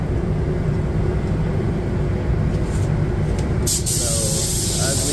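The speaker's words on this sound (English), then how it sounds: "And now we're doing the clear coat. This is the clear coat now." Clear coat being sprayed onto a Nissan Skyline GTR R34 during restoration, a loud continuous close hiss of the spray gun with a deep steady rumble underneath, unbroken throughout.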